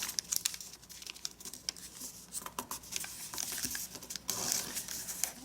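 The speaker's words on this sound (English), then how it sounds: "And now let's fold both of these flaps down" Paper is folded and flattened for an origami sword swallower, with close, soft crinkles, creasing rubs and light taps in an irregular stream, no one talking.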